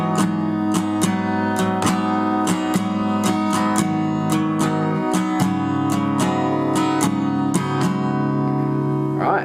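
Guitar playing the intro of a song, a steady run of ringing plucked notes with rhythmic picked accents, close and continuous with no talking.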